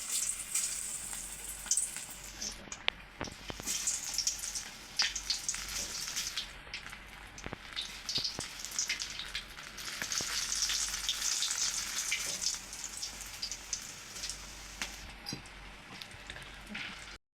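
Onion bajji fritters sizzle as they fry in hot oil in a home kitchen, a steady crackling hiss that swells and eases, with occasional sharp pops and utensil clicks and no talking.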